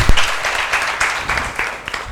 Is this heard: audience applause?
yes